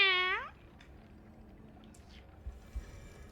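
A voice imitates a cat's meow, one short rising-and-falling cry at the start, followed by near silence with a couple of faint thumps.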